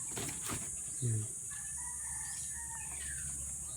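Chickens at a place where they are sold, with a brief clucking burst and faint bird calls over a steady background hum, no talk.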